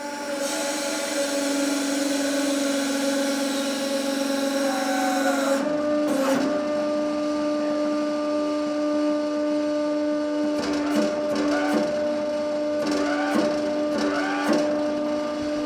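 A hydraulic press crushing a block of Himalayan salt gives off a steady, sustained mechanical whine with strong tonal hum. Sharper cracking and creaking bursts come in partway through, and again toward the end.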